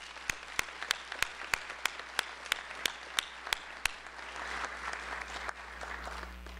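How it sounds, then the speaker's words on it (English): At a medical school white coat ceremony, a few sharp, evenly spaced hand claps ring out before the audience joins in a softer, sustained round of applause, all somewhat distant. "Please join me in saluting them with a round of applause."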